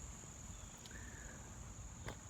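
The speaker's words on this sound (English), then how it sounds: "I'm hearing cicadas." A constant high-pitched drone of cicadas hums steadily in the background, faint and continuous, with no voices.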